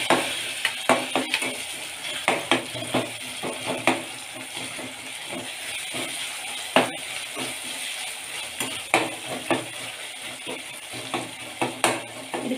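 Chopped tomatoes and onions sautéing in a pan for rava kichadi, a steady soft sizzle broken by repeated scraping clicks of a spoon stirring against the metal, close and fairly quiet.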